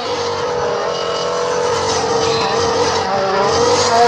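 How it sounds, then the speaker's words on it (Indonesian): A red toy Formula One race car gives off a loud, continuous whining engine-like buzz that holds steady and swells slightly toward the end, with no talking. "ada mobil balap Formula"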